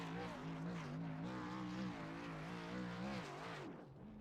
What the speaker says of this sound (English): He's practicing his victory burnout.